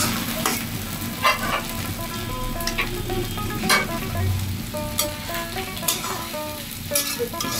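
Ground spice paste sizzles in hot mustard oil over browned onions for a duck curry. The frying hiss is continuous and close, broken by repeated stirring scrapes and a few louder spatters.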